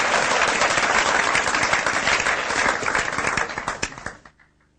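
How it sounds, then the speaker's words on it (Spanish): A church congregation claps during a Sunday morning service, a dense burst of crowd applause that thins into a few scattered claps and then stops. "Denle un aplauso a Jesucristo, hermano, en esta mañana."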